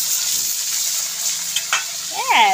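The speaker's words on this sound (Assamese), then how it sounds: "এতিয়া ভাজি লওঁ" Cleaned fish fry in hot oil in a pan, a continuous close hiss and crackle with a few louder pops; a short voice-like sound rises briefly near the end.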